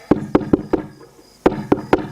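Knuckles rap on a door in a rural North Indian home: a close, crisp burst of four knocks, a short pause, then three more, with no voices over them.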